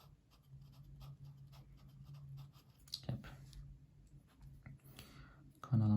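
A fountain pen scratches across paper while writing with Monteverde bottled ink, a faint, close series of short rhythmic strokes in a quiet room, with a few louder rustles near the end.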